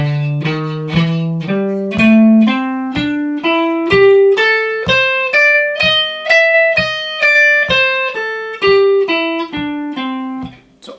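A guitar climbs and then descends a pentatonic scale in box 3 with the added blue note, plucking about twenty evenly spaced single notes with no one talking.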